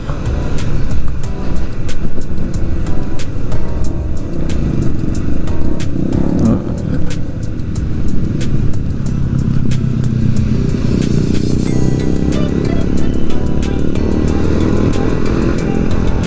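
A Honda CB150R motorcycle engine drones steadily while riding, with broad road and wind rumble throughout; the engine note shifts slightly as speed changes.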